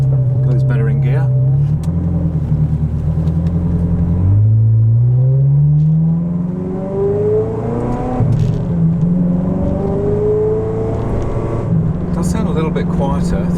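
Ferrari 360 engine and exhaust during normal driving after an ECU reset, a loud droning note rising and falling through gear changes, with someone talking over it.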